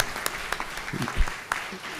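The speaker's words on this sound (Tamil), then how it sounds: "முதலாவதாக ஒரு பயங்கரமான ஒரு பலத்த கரவொலி கொடுக்க போகிறோம்" An audience at a public event with a judge on stage gives brief, scattered applause mixed with a speaker's voice over a PA.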